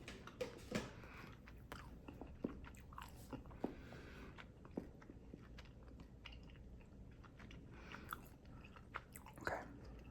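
Soft, close chewing of a piece of gum in a quiet whispered setting, with wet clicks and small smacks scattered irregularly throughout.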